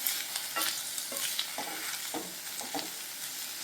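Ridge gourd pieces with green chillies fry in a pan while being stirred, a steady broadband sizzle broken by several short scraping stir strokes, close and alone with no talk.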